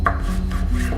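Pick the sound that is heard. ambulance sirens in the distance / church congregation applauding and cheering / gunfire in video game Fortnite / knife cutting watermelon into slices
knife cutting watermelon into slices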